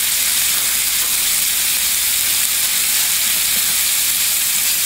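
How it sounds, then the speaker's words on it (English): Garlic frying in hot oil in a pan for chicken adobo, a loud, steady broadband sizzle heard up close with no talking. "Then add your garlic."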